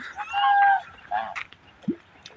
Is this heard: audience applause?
no